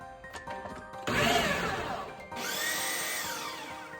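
A food processor pulsing to shred ingredients alongside onions, two separate motor bursts, the first rough and grinding, the second a smoother rising whir, fairly quiet.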